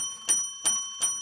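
Small bell rung three times at an even pace during a live-stream podcast, each strike a bright metallic ding with a short ringing tail, clear and close with no talk over it.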